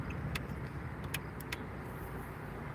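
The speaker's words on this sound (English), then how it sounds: "Camaro just passed me." A Chevrolet Camaro drives past on an Eastside Flint street, a steady road and engine rumble heard from inside a moving vehicle, with a few brief clicks and rattles over it.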